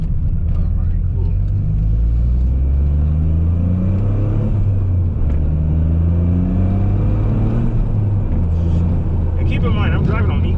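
A Toyota GR Corolla cruising locally in economy mode, heard from inside the cabin as a steady loud engine drone that rises and falls through gear changes, with someone talking over it throughout.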